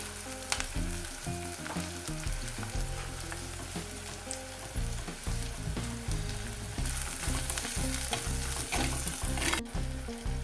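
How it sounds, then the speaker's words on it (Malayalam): Ginger and green chillies sautéing with salt for a Kottayam-style fish curry give a steady close sizzle with frequent stirring scrapes, while tonal music plays underneath. "ഇഞ്ചി, പച്ചമുളക് ചേർത്ത് കൊടുക്കാം. ഇത് നമുക്ക് നന്നായിട്ടൊന്ന് വഴറ്റാം."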